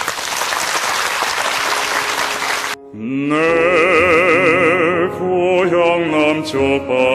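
Loud applause from a concert audience welcoming bass-baritone singer Shin Geum-ho, a dense steady roar of clapping for nearly three seconds that stops abruptly, followed by sustained tonal music.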